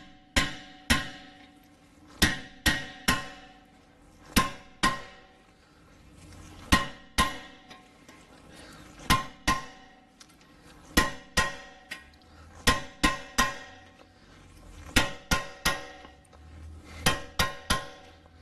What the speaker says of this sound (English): we are just going to strike it with our hammer and see if we can break this loose